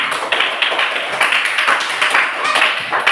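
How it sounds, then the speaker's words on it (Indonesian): A crowd claps steadily for a few seconds, many hands overlapping into a bright, continuous patter with some voices mixed in. "tepuk tangan untuk kita semua."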